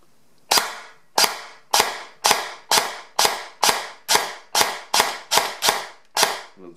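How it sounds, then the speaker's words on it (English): Airsoft gun with a Gate Titan v3 gearbox test-fired on semi-auto, giving about twelve sharp, close snapping shots at a steady, slightly quickening pace in a quiet room. "Let's see how the gearbox is working. So let's put it on semi."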